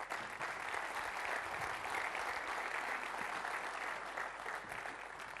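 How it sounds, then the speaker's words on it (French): Sustained applause from a conference audience at a business congress in Biarritz, a dense steady clapping that fills the room at moderate distance without pause. "Et je vous demande à présent d'applaudir le vice-président du MEDEF national, Patrick Bernasconi."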